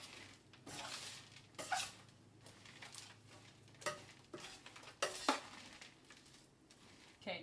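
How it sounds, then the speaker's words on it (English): A metal spatula stirs roasting granola in a deep pan, giving soft irregular scrapes and rustling clinks at a fairly low level, close by and with no talking. "I'll get a nice metal spatula and stir it around"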